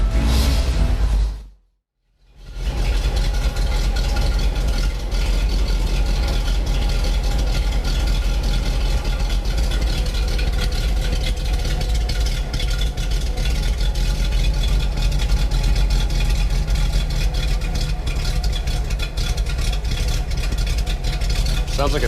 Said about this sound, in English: Engine actually runs pretty quiet.